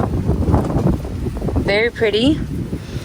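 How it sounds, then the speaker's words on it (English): Strong wind on a hot day in Miami buffets an outdoor microphone at an orchid bloom show, a steady low rumble under a person talking briefly. "It's so windy. So windy in Miami."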